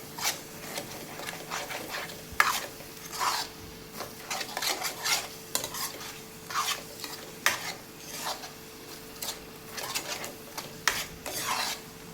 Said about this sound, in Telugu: దీనినైతే ఒకసారి కలుపుకుంటున్నానండి కడాయికి అంటుకోకుండా కలుపుకోవాలి